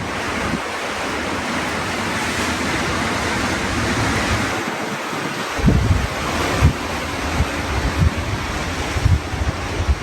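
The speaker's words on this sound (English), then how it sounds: "Tough getting in here, it's tough getting out. The tide is coming in." Ocean waves surging at a sea cave at the Devil's Punchbowl as the tide comes in, a constant loud wash of surf with heavier rumbling swells and wind buffeting the microphone.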